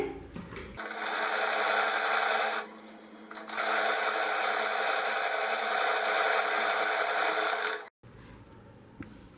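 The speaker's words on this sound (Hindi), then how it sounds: "हम अस्तर की ही किनारी पर सिलाई करेंगे।" A sewing machine stitches along the edge of a cloth handbag lining in loud, fast, steady runs. A short pause breaks the first run, and the stitching stops abruptly near the end, followed by quiet handling noises.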